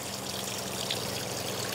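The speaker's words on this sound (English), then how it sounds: "Now the discharge is coming out right here on the ground" Discharge water from a pond filter with a UV sterilizer pouring onto the ground, a steady close hiss and splatter running unbroken throughout.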